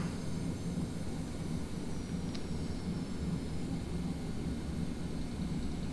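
A small airplane taxis with its engine running in a steady, fairly faint drone and rumble, unbroken throughout.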